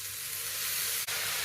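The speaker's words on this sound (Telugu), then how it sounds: "ఇప్పుడు తాలింపు అంతా వేగిపోయింది" Tempering spices for quinoa upma frying in a pan on the stove, a steady close, loud sizzle and crackle of hot oil with a brief clatter near the end, no talk.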